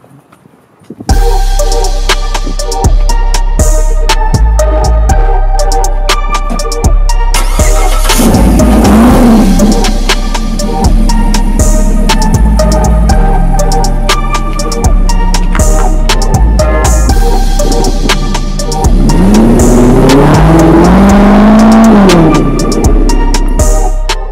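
A Corvette engine runs loud and close, with a steady low drone and two clear rising revs partway through as the car pulls away and accelerates, no voices.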